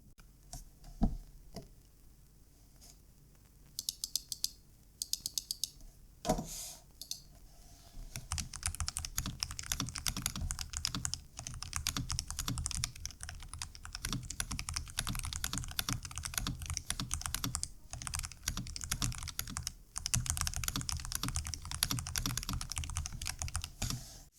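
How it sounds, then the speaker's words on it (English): Typing on a computer keyboard, first a few sparse key taps, then steady, dense clicking that runs close and clear for the rest of the stretch. "Can you record keyboard sound tests, for example?"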